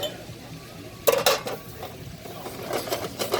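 Lidded pan of fresh vegetables shaken over the heat to warm them, giving a few brief metallic rattles and clatters against a quiet kitchen background at a live chef's cooking demonstration.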